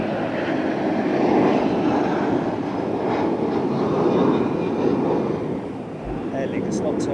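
ANA Boeing 777 climbing steeply after departure from Heathrow runway 27R, a steady distant engine rumble that rises and falls gently over several seconds, with faint background sounds and no clear talk.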